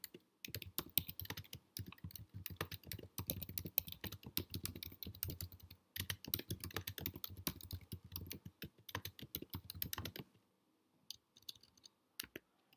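Steady, close typing on a computer keyboard while writing a video outstream ad in Google Ads, crisp rapid keystrokes with a short break midway and a sparse trailing-off near the end.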